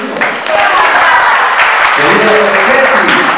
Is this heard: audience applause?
yes